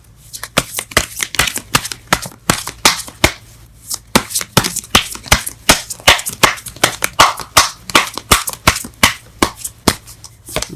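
A deck of tarot cards is shuffled by hand, producing loud, close, rapid riffling bursts and slaps in an irregular but continuous rhythm, alone without talk.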